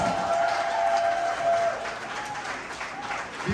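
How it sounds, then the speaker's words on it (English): Wedding guests applauding a lion dance group: a sustained wash of clapping from a crowd in a reception hall, fairly even and steady, easing slightly toward the end. "So give them a big round of applause."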